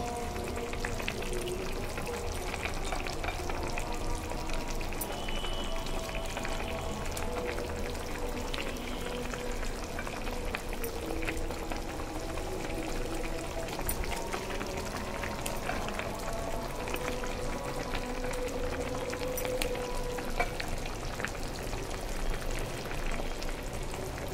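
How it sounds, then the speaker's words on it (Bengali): Eggs fried into a thin crepe are cooked with cabbage in a pan, giving a steady, dense sizzle that bubbles on without pause for the whole stretch. "এ পর্যায়ে আমি বাঁধাকপির মধ্যে ডিমগুলো দিয়ে দিচ্ছি।"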